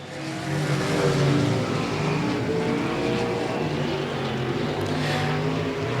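Race cars circle a quarter-mile high-banked oval at Golden Triangle Raceway Park, a steady, loud blend of engine drone that swells slightly early, then holds on as the field laps continuously.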